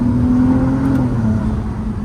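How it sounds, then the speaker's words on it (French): A Ferrari 296 GTB hybrid V6 revs hard, giving a steady high-pitched whine and roar that holds near the top of its range, close and loud, without talk. "Ça monte dans les aigus, c'est vraiment un mini V12."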